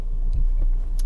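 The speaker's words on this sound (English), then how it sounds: "So let's start the engine." A Matra Rancho's 1.4-litre Simca 1308-derived engine rumbling low and steady close by, a deep continuous drone with a few faint clicks and no talking.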